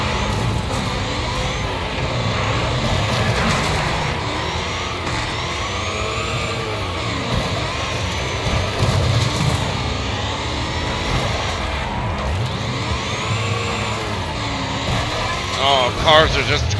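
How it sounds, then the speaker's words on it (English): Cars crashing and crumbling in a Wreckfest demolition match at Big Valley Arena, engines roaring and metal thumping and scraping throughout, with a voice talking over the chaos. "Oh, cars are just crumbling."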